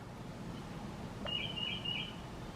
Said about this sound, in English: Do you guys hear the birds? Spring is coming.